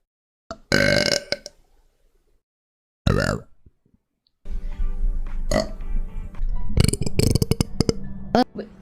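A woman lets out two loud, drawn-out burps separated by a pause, then talks amid clicks and further short belches.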